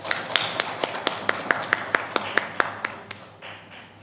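An audience at a public gathering honouring Ramatai Mohod claps in a steady, even rhythm of crisp claps that slows and fades after about three seconds, with no voices over it.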